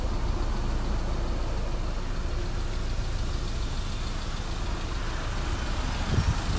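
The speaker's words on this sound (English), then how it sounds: "obviously the engine's been running since we started the video" A car engine idles with a low, steady rumble throughout, fairly close, with no talking.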